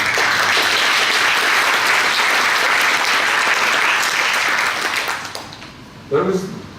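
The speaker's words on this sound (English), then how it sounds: "And that also deserves a round of applause, right?" Loud audience applause at a corporate meeting fills the room steadily for about five seconds, then thins out, with a brief burst of noise near the end.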